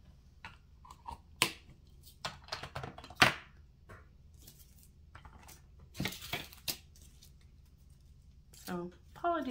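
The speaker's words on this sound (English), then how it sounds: "apologies for any noise that you hear from the cat" Scattered rustling, tapping and small knocks of a cat rummaging under a chair and table nearby, irregular bursts with quiet gaps in between.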